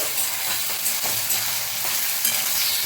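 Ginger garlic paste frying with onions in a pan for a home-style potato chicken curry, giving a steady, close broadband sizzle with faint scraping, continuous and without speech.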